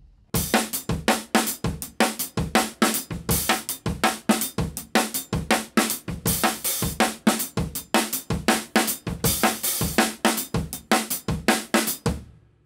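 Drum kit playing a groove, with open hi-hats sometimes on the first two hi-hat notes of the bar. Punchy kick and snare hits sound in a steady, dense rhythm under washing cymbals, close and loud, with no talking.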